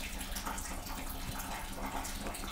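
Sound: water flowing out of the nostril during jal neti nasal rinse

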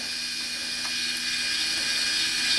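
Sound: Hornady power deburring tool on 5.56 brass

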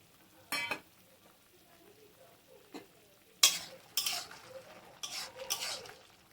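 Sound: stirring boiling raw papaya chutney with cashews and raisins

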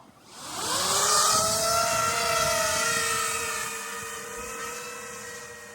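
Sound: FPV drone taking off and flying

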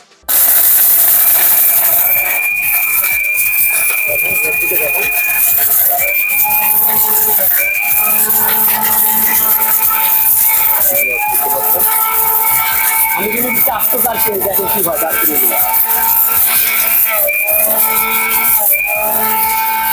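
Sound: electric blender running

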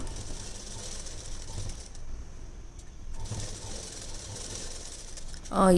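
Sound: sewing machine stitching silk blouse side seam

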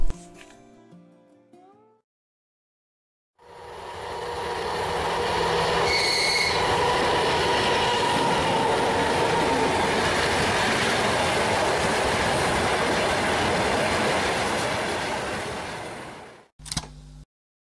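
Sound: tanker freight train hauled by M62K class diesel locomotive

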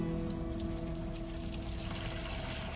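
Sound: water pouring for child to play in

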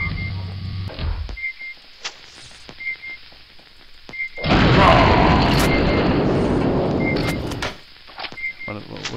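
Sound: rocket launcher fire in video game Aliens versus Predator Gold

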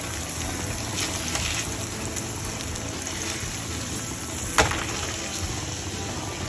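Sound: steak frying in a pan

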